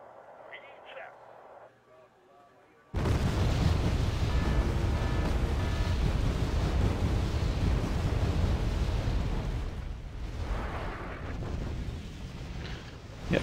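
After a quiet start with faint rumble, an artillery strike in Wargame Airland Battle erupts into a loud, sustained roar of explosions and heavy rumbling that carries on for about ten seconds, with a few brief interface tones over it.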